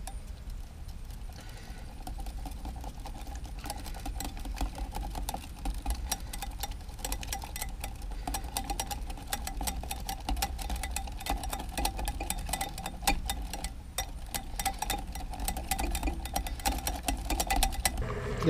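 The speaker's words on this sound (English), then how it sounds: "So after you mix all the ingredients, then you start whisking." A whisk clicks rapidly and evenly against a bowl while blue cheese dressing ingredients are beaten together, a fast continuous ticking that stays close and fairly soft with no talking.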